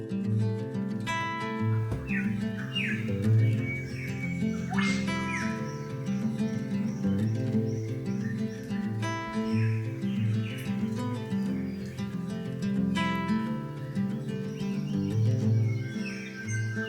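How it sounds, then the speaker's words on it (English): Birds sing and chirp at dawn in an Australian rainforest, varied calls and whistles scattered over a steady low drone of insects or background hum, moderately distant and continuous. "I've just been enjoying all of the bird sounds"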